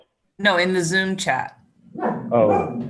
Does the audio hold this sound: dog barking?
yes